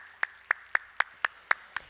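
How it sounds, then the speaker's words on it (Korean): A church congregation claps in unison to give glory to God, making crisp single claps in a steady beat about four times a second, close and distinct over a quiet background. "우리 하나님께 영광의 박수 합시다."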